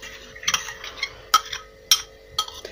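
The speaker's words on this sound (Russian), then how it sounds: "просто-напросто выкладываем сюда эту ягодную смесь, пюре клубничное и хорошо перемешиваем" A utensil stirring a strawberry berry puree mixture in a bowl for homemade ice cream, with several sharp clinks and scrapes against the bowl at irregular intervals, close and fairly quiet.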